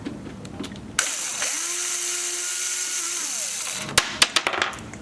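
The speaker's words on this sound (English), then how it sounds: "So you just gotta unscrew this real quick here." Screws being backed out of a desktop PC case during an SSD upgrade: a steady whirring drive runs for about two and a half seconds after a click, followed by a quick series of sharp clicks and taps.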